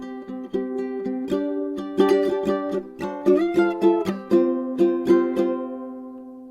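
A ukulele plays a steady, fairly fast strumming pattern, close and clear with no voices. Sharp muted chops are mixed in among the ringing chords, and the chord changes partway through.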